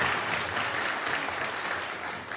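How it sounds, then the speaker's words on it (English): A church congregation claps steadily at a Sunday service, a brief round of moderate applause for the volunteers, heard fairly close. "we'll give them another round of applause"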